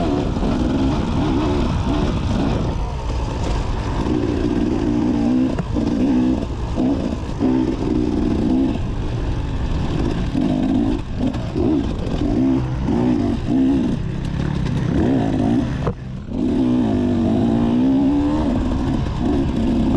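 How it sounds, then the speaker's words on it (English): A dirt bike engine revs continuously and loudly up close during a race, its pitch rising and dropping in repeated throttle bursts, with a brief dip near the end. "I'm revving to try and get this guy to let me pass"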